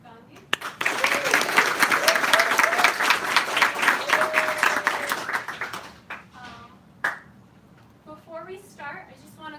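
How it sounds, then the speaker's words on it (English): An audience applauds at a design school halfway show, a dense wash of clapping lasting about five seconds before fading out, with voices talking over the tail and a sharp knock partway through. "I also want to just give a round of applause to one of our other faculty partners."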